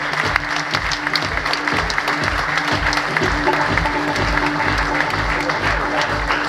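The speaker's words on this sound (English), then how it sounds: "I want a big clap for him as Cochi Pellicena is here with us." Audience applause for the head coach at a Miami Sharks Major League Rugby team presentation: steady, dense clapping from a crowd that holds at an even level for several seconds, with a faint murmur beneath.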